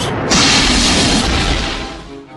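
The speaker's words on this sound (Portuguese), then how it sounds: "explodiu a potentíssima carga" A massive dynamite charge goes off inside a church at the altar, a sudden loud boom that swells into a long roaring rumble and slowly fades away, heard alone with no voices.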